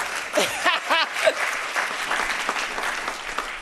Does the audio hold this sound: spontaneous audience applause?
yes